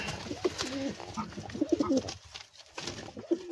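Several loft pigeons coo in low guttural bursts close to the listener, overlapping and nearly continuous with a short lull partway through.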